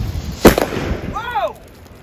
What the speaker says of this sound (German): Gut, an die Lunte, Super 1.